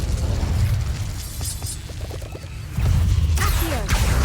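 Spell impacts from the Incendio fire spell in the Hogwarts Legacy video game, a dense roar of bursts and crackling blasts over steady low rumble, loud and continuous, with a heavier surge near the end.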